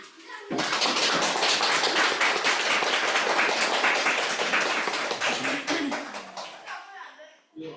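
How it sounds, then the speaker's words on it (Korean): Sustained applause from a congregation at a church ordination service, many hands clapping densely and loudly for several seconds before tapering off. "박수"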